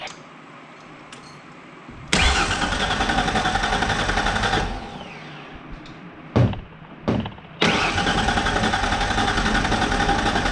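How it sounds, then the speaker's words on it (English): A swapped-in Ford 4.0 OHV V6 in a 1994 Ford Ranger is cranked over on the starter without firing: a loud, steady churning run, a pause, two short bursts, then another sustained crank. "We're going to see if she fires up in this truck."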